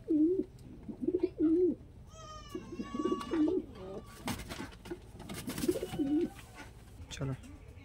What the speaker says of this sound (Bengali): পায়রা দুটো কালদম পায়রা আছে